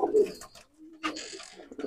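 Nildumma pigeons kept as pets coo softly up close in a couple of short, throaty bursts, with brief quiet between calls.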